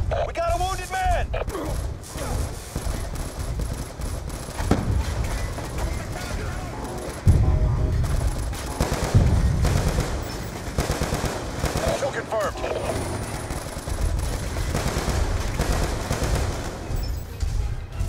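Rapid machine-gun bursts and scattered gunshots from Call of Duty: Black Ops II, loud and nearly continuous throughout, with heavy impacts and booms mixed in and radio-style voices talking over the fighting.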